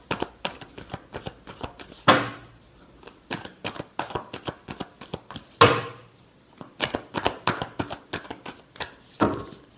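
Tarot cards are shuffled in quick riffling bursts, a dense run of crisp papery slaps with two sharper bridging snaps, close and dry, while a voice speaks faintly in the gaps.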